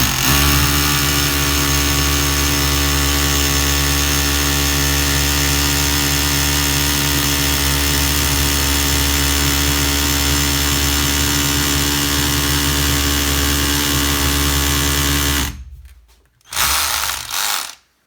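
ENKHO professional cordless hammer drill from Eurospin boring with an 8 mm bit, a loud, steady mechanical hammering drone held continuously for about fifteen seconds before it cuts off, followed by one brief final burst.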